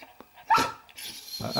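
A pet dog named Snoopy gives a couple of short barks at home, close and fairly loud, with a person talking softly around them.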